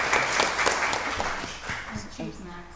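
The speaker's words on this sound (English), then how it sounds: "Y'all give her a round of applause." Audience applause at a county board of commissioners meeting, a steady wash of clapping from a roomful of people that fades as voices start talking over it near the end.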